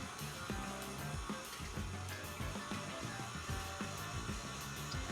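An electric sausage grinder whirs steadily as ground meat is pushed through into a casing, with a loud motor hum and rhythmic churning pulses, no voices.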